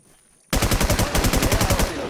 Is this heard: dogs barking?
no